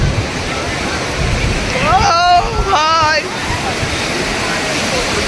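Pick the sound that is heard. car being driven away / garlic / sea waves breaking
sea waves breaking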